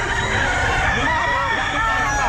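An early bird bandit gamefowl rooster crows at a busy pet market, a drawn-out cock-a-doodle call standing out from the crowd noise and chatter around it.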